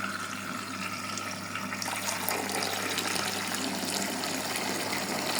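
Tap water running steadily to rinse laundry tablet residue, a continuous close splashing rush that swells slightly partway through.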